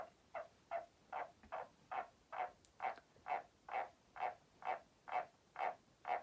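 White's tree frogs (Litoria) croaking in a steady series of about fourteen evenly spaced, moderately loud calls, each a short buzzy pulse, with no voices present.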